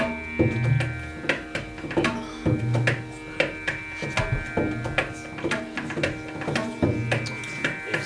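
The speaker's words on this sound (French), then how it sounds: "Maintenant, écoutez le son des tablas." Tabla drums play a rhythmic pattern of sharp strokes and resonant bass tones over a sustained droning background.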